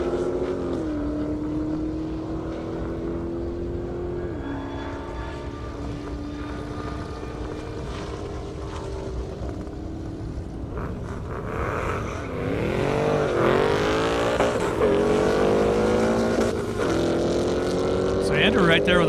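Drag racing cars at an airstrip event, with a steady engine drone that rises in pitch, then a louder, harsher surge of revving and acceleration near the end as a commentator talks throughout.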